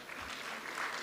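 A short burst of scattered clapping from an audience at a government awards ceremony, moderately distant and steady for about a second.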